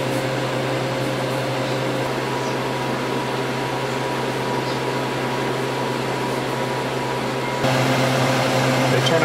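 A freeze dryer processing ice cream sandwiches gives off a steady mechanical hum with a fan-like whir and a constant tonal drone. Near the end the level steps up slightly.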